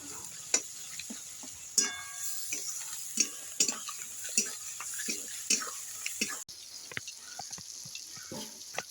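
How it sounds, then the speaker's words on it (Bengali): Spice masala with Kashmiri chili powder sautéing in a pan, a soft sizzle under repeated sharp clinks and scrapes of a spatula stirring at an uneven pace, close by. "দিয়ে আমি ভালো করে মশলাটা কষিয়ে নেবো"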